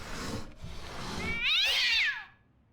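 Cat in the Ju-On: The Grudge video game, a single drawn-out meow that rises and then falls, loud and close after low rumbling game ambience, with no talking.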